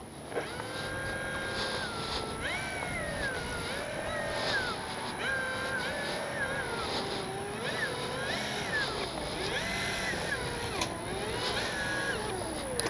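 The electric motor of an FMS P-51 Miss America RC plane in cruise mode drones with a steady whine that rises and falls gently in pitch over a constant windy background, distant and sustained.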